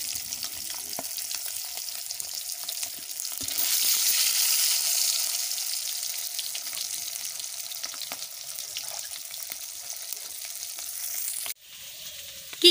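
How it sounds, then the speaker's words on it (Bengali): Eggs coated in salt and turmeric fry in hot oil for an egg curry, giving a loud, close, continuous sizzle that swells after a few seconds and then cuts off abruptly near the end. "তো আমার ওই তেলের মধ্যেই দিয়ে দিচ্ছি ওই লবণ হলুদ মেখে রাখা ডিমগুলো"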